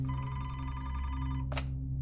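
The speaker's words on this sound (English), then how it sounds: "after Timmery had left the police station, the phone in the police station rang, and Officer Matt Owens answered it." A telephone rings in a police station: a steady electronic ring runs through most of the stretch over a low hum, then cuts off with a brief burst near the end. No one speaks.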